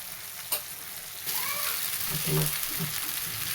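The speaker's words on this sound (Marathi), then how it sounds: "सगळं मसाला परतून झाले आता आपण पोहे टाकून घेऊया" Poha tipped into a pan of sautéed onion masala and stirred, a loud steady sizzle rising after a brief scrape, with a spoon scraping through it and faint background voice.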